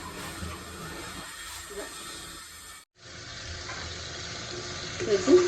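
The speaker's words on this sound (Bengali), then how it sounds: "মশলাটা কষায় নিয়ে নিলাম" Spices for a Bengali dish sizzle in a hot pan, a soft steady fry with a short break in the middle and a few louder scraping clinks near the end.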